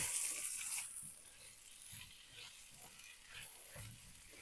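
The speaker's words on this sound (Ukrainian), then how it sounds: "Перемішуємо." A spoon scrapes and stirs a cowboy-style egg mixture in a frying pan, giving soft rhythmic scraping strokes over a faint sizzle at close range.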